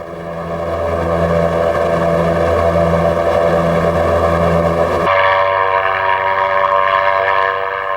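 An airship's engine and propellers drone steadily in a loud, even hum with a pulsing beat, then the tone shifts abruptly midway to a different, brighter engine note that carries on strongly.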